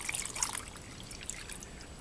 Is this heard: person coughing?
no